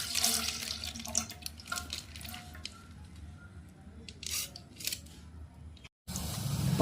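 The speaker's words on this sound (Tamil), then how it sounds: "ரெண்டு பால் பாக்கெட்டும் ஊற்றி ஃப்ரெண்ட்ஸ்." Two packets of milk are cut open and poured into a pan, making a close, steady liquid splashing and pattering with a snip or squish near the start, then a brief silence before more pouring.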